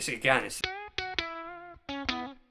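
Brief talk gives way to a few overdriven electric guitar notes through an Electro-Harmonix germanium overdrive pedal, fuzzy and sputtering, each ringing briefly before decaying.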